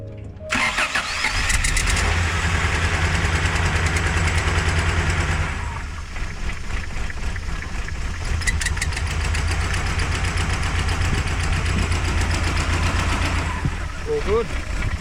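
A vintage van's engine cranks over, catches and settles into a rough, loud idle running steadily close by, with ignition timing set far too advanced.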